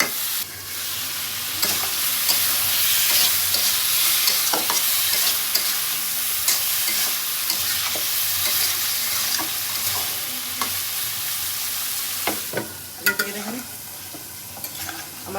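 Curry gravy bubbling and sizzling in a pan, with continuous frying hiss and occasional clinks and stirring scrapes, close and fairly loud, no talking.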